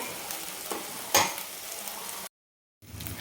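Masala paste for a dhaba-style paneer tikka masala sautéing in a pan, a steady broadband sizzle with a sharp stir clack near the middle, then a brief dead silence before the frying resumes.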